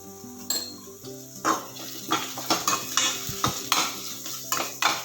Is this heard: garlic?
yes